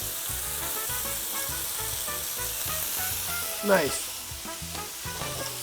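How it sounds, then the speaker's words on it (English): Green beans, onions and radishes sauté in a pan with a steady sizzle and stirring scrapes throughout, with a brief louder clatter near the middle and a single short spoken word. "These taste very, very good when they are sauteed"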